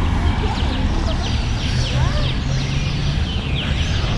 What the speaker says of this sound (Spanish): el sonido de los pájaros se hace notar